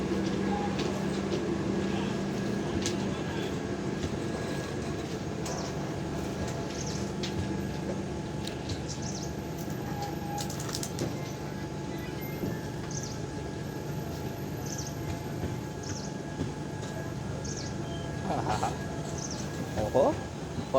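A Bhavnagar to Ahmedabad intercity passenger train runs with a steady low rumble and rail noise, brief metallic clanks near the end, and people talking faintly in the background.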